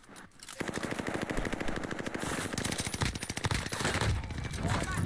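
Rapid automatic gunfire from the Warzone video game rattles in long, dense bursts almost without pause, moderately quiet overall, with a faint voice occasionally underneath.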